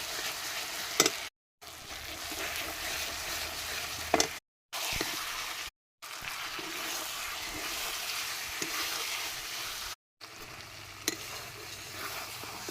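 Chicken pieces are sautéed with spices in oil, making a steady, moderately quiet sizzle with occasional stirring clinks, broken by several short silent gaps.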